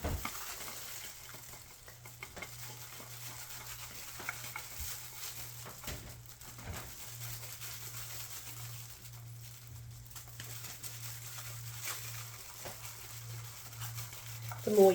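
Coloured resin mixed with white pigment for geode resin art is stirred in a container, giving faint, soft scraping and sloshing strokes over a steady low hum.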